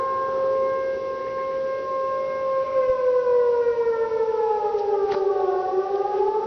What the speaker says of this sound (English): these alarms just started going off right now.